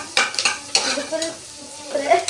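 Oil sizzling in a pan with a few sharp spoon scrapes from stirring, for homemade sambar; the frying is steady and close, with short clinks from the pan.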